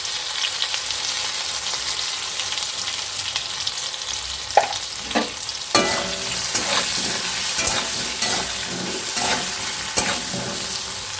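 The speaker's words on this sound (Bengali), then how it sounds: "আলুটা একটু ভালো করে ভেজে নিচ্ছি, মিনিট 3-4 মতো আলুটা একটু ভেজে নিচ্ছি।" Diced potatoes frying in oil in a pan, a continuous close sizzle that grows busier partway through, punctuated by scraping and knocking of a stirring utensil against the pan, no voices.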